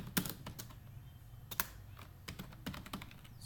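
Typing on a computer keyboard, with close, crisp keystroke clicks in an irregular rhythm, light and fairly quiet, no talk.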